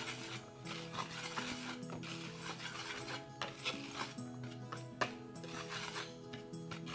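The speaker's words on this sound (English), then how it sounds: "using a whisk, we're just going to whisk it together" Wire whisk stirring baking powder, salt and other dry ingredients together in a mixing bowl for sugar cookie dough: a steady, soft scratchy swishing against the bowl, close by, with a faint tonal background beneath.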